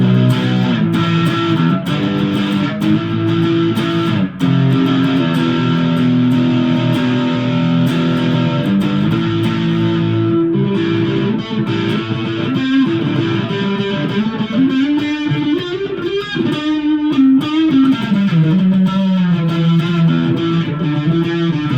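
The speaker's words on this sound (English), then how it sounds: "Mini humbucker, neck position." An electric guitar played through a mini humbucker in the neck position, with distortion and effects giving a thick, sustained tone across continuous riffs and held notes, heard alone and loud throughout.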